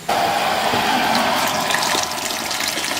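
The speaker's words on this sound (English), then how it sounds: "3 litres of water that I'm putting in." Water pours steadily from a kettle into a soup pot for Chinese chicken noodle soup, a loud continuous splashing gush that eases slightly toward the end.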